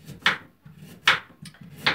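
Kitchen knife chopping a large carrot on a board for chicken pilaf, three sharp evenly spaced chops about a second apart, close and fairly quiet.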